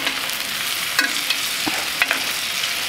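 Spoon basting steak in a hot pan with garlic and rosemary, a steady soft sizzle with light scraping strokes and a few brief taps of the spoon against the pan.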